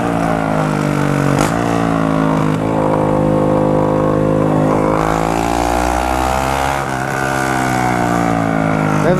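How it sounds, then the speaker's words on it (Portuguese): A car with a modified exhaust revving hard, a loud steady harmonic engine drone that rises and falls in pitch with a few sharp cracks, close and continuous with no talk over it. "vamos alastrar aqui com esse escapamento solcando"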